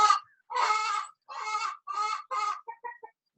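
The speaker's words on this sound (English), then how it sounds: "I can't even think over this bird." Loud fowl-like bird squawking nearby in a series of four or five harsh, honking calls, then a few shorter clucking notes trailing off, with no talking over it.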